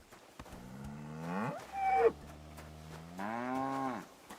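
Cows low in Kingdom Come Deliverance II, with two long, loud moos, the second after a short pause, heard alone in an open countryside setting.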